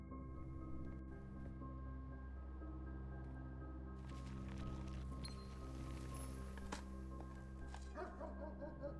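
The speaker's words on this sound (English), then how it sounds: "Ooh, the dogs are barking." Dogs barking in the video game Blue Prince, faint and distant over a steady droning hum, with a few soft barks and rustling sounds scattered through.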